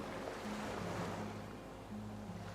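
Ocean waves roll and wash continuously in the video game Disco Elysium, a broad surf roar beneath faint low tonal hums that could be distant horns.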